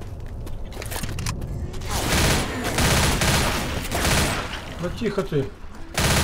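Rapid gunfire bursts from the Left 4 Dead video game rattle loudly through most of the stretch, dense and continuous, with a person talking briefly over them.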